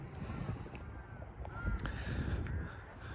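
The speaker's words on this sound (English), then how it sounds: "But there is so many crows. Right. So many crows happening." Several crows caw at intervals outdoors over steady wind noise, the calls moderately distant and partly masked by the rumble.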